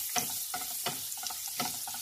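Green chilies hit a hot pan while cooking anda ghotala, the Surat street-food egg dish, giving a close, steady sizzle broken by several sharp frying bursts from stirring.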